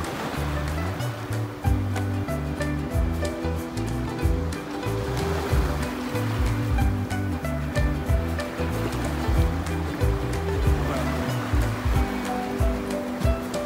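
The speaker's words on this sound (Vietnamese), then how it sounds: "Này sóng quấn luôn này." Ocean waves roll and break on a beach on a morning swim at sunrise, a continuous loud wash of surf and churning water close by, with no talking.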